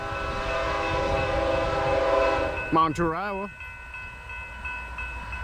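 A coal train passes on the Union Pacific line at Montour, Iowa, its rumble steady and loud before a short, wavering horn blast sounds midway and the noise then drops away; someone speaks briefly.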